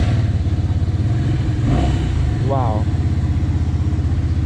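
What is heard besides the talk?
Keeway K Lite V 250 motorcycle engine starting and revving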